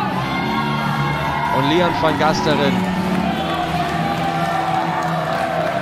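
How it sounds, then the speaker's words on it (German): A wrestling crowd at an MWA show roars and cheers steadily as a wrestler makes his entrance into the hall, a dense wall of voices beneath someone commentator speaking German. "wird frenetisch gefeiert hier vom Publikum, wird begeistert aufgenommen"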